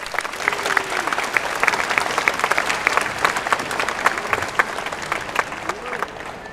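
Steady applause from a graduation audience thanking teachers and parents, a dense, sustained crowd of clapping hands filling the hall at moderate loudness without pause.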